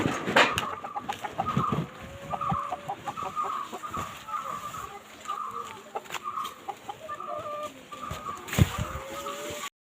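Several backyard chickens cluck in short repeated bursts around a house, fairly close and clear, with a few sharper calls and light household noises in between.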